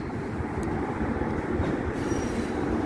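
A CN freight train shunts at Southwark Yards while coupling an oil tank car, giving a loud, continuous rail rumble with a thin wheel squeal near the end.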